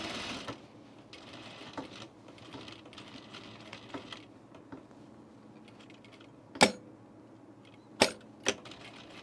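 A sewing machine stitches a seam on an unlined auburn blazer, a quiet rapid mechanical whir in short runs, broken by a few sharp clacks near the end.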